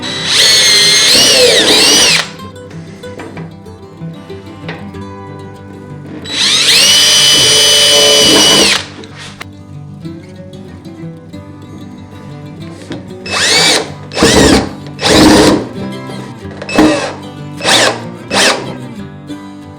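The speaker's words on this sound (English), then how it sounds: "I've set up a small pilot drill to accurately drill these holes in place" A small pilot drill bores holes in a gutter and a quarter-inch nut driver drives color-matched gutter screws. Two long, loud whirring runs are followed by a series of short, rapid bursts.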